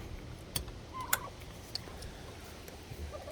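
Turkeys gobble in a ranch pen, a few short, fairly faint calls spaced out over a quiet outdoor background with occasional light clicks.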